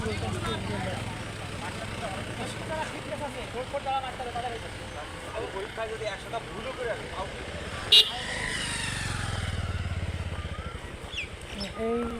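Vehicles pass along the road at the Tin Bigha Corridor, a steady rumble of engines and traffic with one louder approach building around the middle, while people talk throughout.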